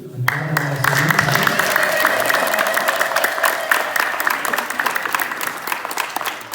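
Sustained applause from a church congregation at an Ethiopian Orthodox church service in Salt Lake City, dense, steady clapping filling the room throughout, loud and close, with a faint voice briefly over it at the start.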